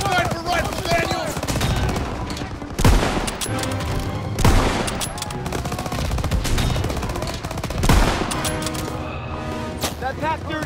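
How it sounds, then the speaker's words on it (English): Rapid machine-gun and rifle fire crackles through a Call of Duty: WWII battle, sustained and loud, with heavy booming impacts landing three times under shouting voices. "Everyone open fire!"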